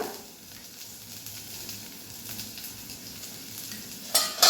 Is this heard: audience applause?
no